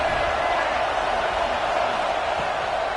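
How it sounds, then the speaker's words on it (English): A stadium crowd at Saban Field roars on third down in an Alabama college football video game, a dense, continuous wash of cheering that holds steady and loud throughout. "The Tide crowd rolling noise down onto Saban Field on 3rd down"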